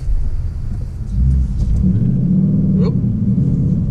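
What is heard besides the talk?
Ford Mustang GT 5.0L V8 engine nearly stalling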